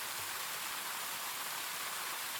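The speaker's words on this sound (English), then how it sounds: "Waking to the sound of rain, I cracked my eyes open." Steady rain falls in a visual novel game, a soft continuous hiss of drops on a surface with no pauses, even and moderately close, with no voices.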